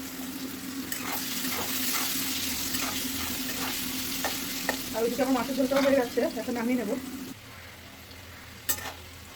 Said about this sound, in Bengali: দেখো বন্ধুরা আলু ভাজা হয়ে যাচ্ছে এখন আলুটা নামিয়ে নেবো